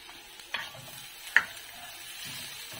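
Minced garlic and ginger sautéing in a pan, a quiet soft sizzle with a couple of sharp utensil taps against the pan, faint and close, with no talking.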